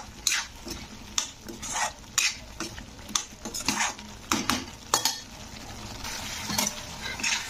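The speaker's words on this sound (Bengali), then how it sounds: "তো এবারে আমি ভেজে রাখা আলুটা এর মধ্যে দিয়ে একটু কষে নেব।" Fried potatoes stirred and scraped through a sizzling spice masala in a pan, with repeated clinking strokes of the spoon over a steady frying hiss, close and moderately loud.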